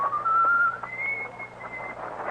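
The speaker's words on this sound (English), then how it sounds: "whistling a jaunty tune" A man whistles a jaunty tune while walking down the crowded Haymarket in London's West End at evening, a lilting line of sustained notes over a low steady hum from an old recording.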